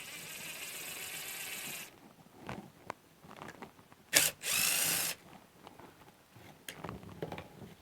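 A power driver whirs briefly while undoing torx screws on a Nikki carburetor from a Briggs opposed-twin engine, with a steady buzz at the start and another short burst midway, plus small clicks and handling noises between.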